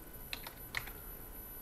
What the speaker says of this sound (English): so let's type an address here